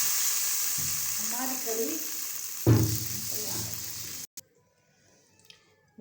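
Cumin seeds sizzle in hot oil as tempering for kadhi pakora, a loud, steady frying crackle with a voice speaking over it, then the sizzle cuts off abruptly into near silence.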